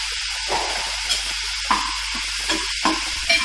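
Chili powder, turmeric, coriander-cumin powder and garam masala sautéing with paste for samosa filling, a loud continuous sizzle broken by regular spatula strokes roughly every half second to second.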